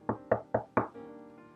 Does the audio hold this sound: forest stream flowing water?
no